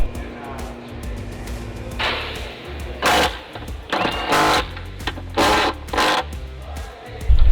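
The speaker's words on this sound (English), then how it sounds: "I'm going around with my impact, tightening down the strut bolts" Cordless impact wrench tightening strut bolts under a Jeep Grand Cherokee during drivetrain reinstallation, firing in several short, loud rattling bursts separated by brief pauses, with a low shop hum between them.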